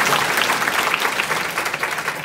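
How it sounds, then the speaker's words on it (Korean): Loud, sustained applause fills a leadership seminar hall as a large audience claps together in a dense, continuous roar with no voices over it. "박수 한번 칠게요"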